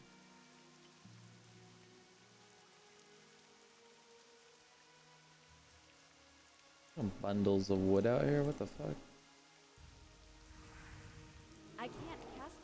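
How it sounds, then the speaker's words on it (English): Steady soft rainfall in World of Warcraft, a faint, even hiss running throughout while someone talks over it in the middle and near the end. "It's been raining for the last like hour."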